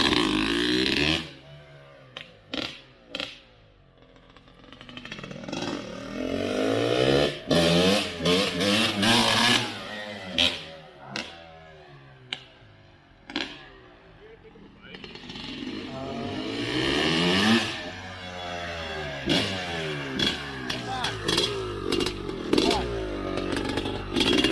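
A 1975 Yamaha MX250B motorcycle engine revs up and drops back in repeated sharp bursts, loud and close, with people talking between and over the revs.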